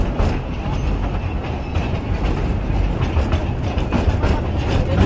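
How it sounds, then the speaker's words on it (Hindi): A joy train ride at the National Rail Museum in Delhi rumbles steadily and loudly, with continuous wheel-on-rail clatter and rolling noise close by throughout. "तो ये जॉय ट्रेन की राइड हमारी शुरू हो चुकी है।"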